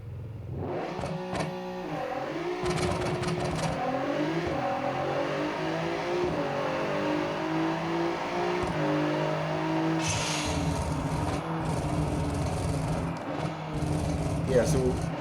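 A race car in a video game accelerates with nitrous engaged, its engine rising through steady revving tones that stay loud and close, with someone talking over it.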